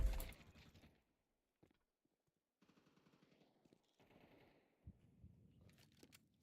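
Counter-Strike 2 gunfire opens with a loud close burst of automatic shots, then fades to quiet, with fainter scattered shots and sounds following.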